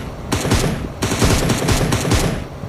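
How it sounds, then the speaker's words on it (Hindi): Bursts of rapid automatic gunfire from a bot in a mobile shooter game, loud and close, in several quick volleys with brief gaps between them. "बोट फायर कर रहा हूँ।"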